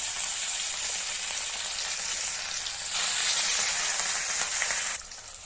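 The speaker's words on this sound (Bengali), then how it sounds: "আমি তেলের মধ্যে মাছগুলো দিয়ে দিয়েছি। মাছগুলো হালকা লাল লাল করে ভেজে নেব।" Catla fish pieces coated in salt and turmeric frying in hot oil: a loud, steady hissing sizzle that swells for a couple of seconds and then drops back slightly, close to the pan with no speech.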